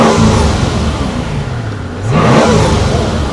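A twin-turbo V12 in a Mercedes SL600 revs hard and close, the loud engine note sweeping down, dipping briefly, then climbing again in a continuous roar.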